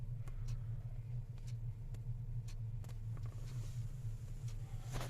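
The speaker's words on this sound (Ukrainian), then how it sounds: "І машина під'їжджає, ми вантажимося," Low steady rumble of a loading vehicle driving slowly up at a port loading area at night, a constant engine drone with faint clicks and knocks over it.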